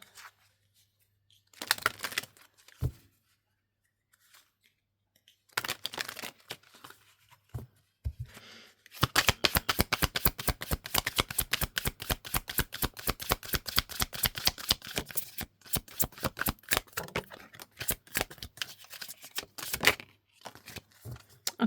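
Tarot cards being shuffled: soft papery riffles and slaps in scattered bursts, then a long run of rapid rhythmic flicks, all close and fairly quiet with no talk.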